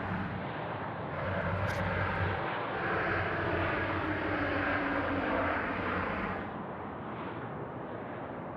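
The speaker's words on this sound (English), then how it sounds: "the All Blacks A321 Neo now just rolling through in front of us" An Air New Zealand All Blacks livery Airbus A321neo taxis past at Sydney Airport, its engines a steady broad roar, moderately close, swelling slightly in the middle and easing toward the end.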